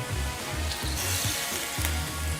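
Broccoli fries in a hot pan during vegan home cooking, giving a steady crackling sizzle. Soft stirring clatters and taps recur rhythmically through it, and no one speaks.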